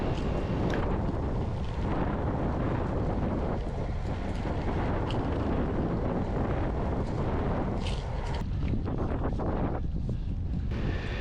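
A strong headwind buffets a cyclist climbing a hill off a highway during a gran fondo ride, a loud, steady roar of wind across the microphone throughout with no voices.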